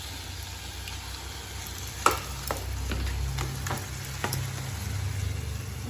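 Eggplant tossed into a pan of fried tomatoes and peas, sizzling steadily while a utensil scrapes and knocks against the pan in irregular strokes, close and clear with no talking.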